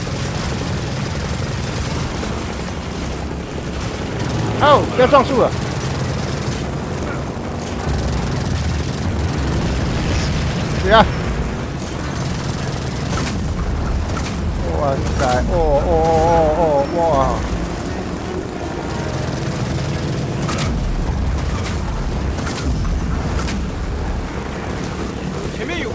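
A helicopter in the video game Gears of War 4 keeps up a loud, steady rotor roar through the whole stretch, with a few sharp impact bursts and excited shouting over it.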